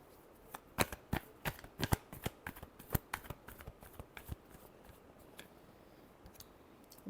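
Tarot cards are shuffled close up in a quick series of crisp riffling snaps, dense at first and then thinning out toward the end.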